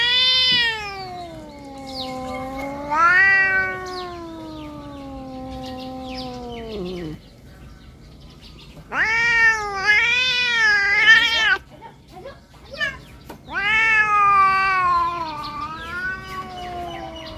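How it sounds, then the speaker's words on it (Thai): An angry stray cat yowls and meows loudly up close in three long, drawn-out wailing bouts separated by brief pauses, with no one talking. "คือเป็นอาการของแมวที่โกรธนะคะ"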